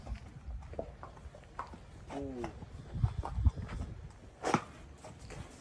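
A young horse led or ridden at a walk during a training session, hooves clopping in a loose, uneven rhythm on the ground. The hoofbeats sound fairly soft and close, with faint background noise and a brief vocal sound partway through.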